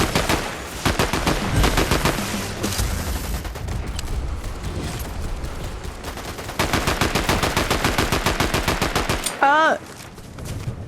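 Loud, dense video game gunfire with rapid automatic bursts and sharp single shots that run almost without a break, plus a brief rising electronic whoop near the end.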